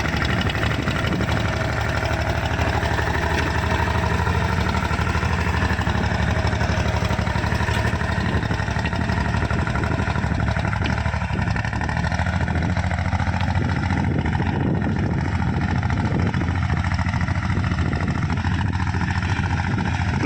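A Kubota farm tractor's diesel engine idles steadily at close range, a continuous low rumbling chug with a faint knocking texture lasting the whole stretch, with no voices over it.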